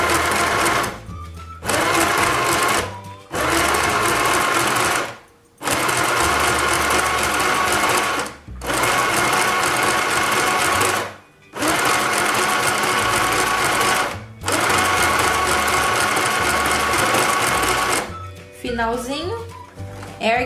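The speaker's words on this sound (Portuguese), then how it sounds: "Agora eu vou voltar pro meu ponto 5 e vou fazer o meu zigue-zague." A domestic sewing machine runs a zigzag stitch in long steady bursts, each broken by short pauses to lift the needle and turn the fabric, loud and close throughout.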